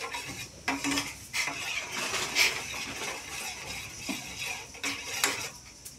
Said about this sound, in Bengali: এবার আমি এটাকে নাড়াতে থাকবো, এবার চিনিটা ভালোভাবে গুলে যায়।